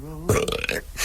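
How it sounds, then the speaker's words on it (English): A single loud, close burp during a burping contest in a film, rough and gurgling and lasting under a second, heard alone with no talk over it. "Let's have a burping contest."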